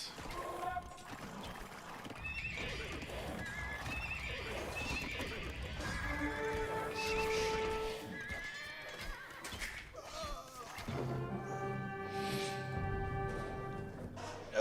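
Cavalry archer horses in Age of Empires 2 whinny repeatedly over a steady clatter of clip-clopping hooves, with several long, bright neighs standing out near and loud throughout.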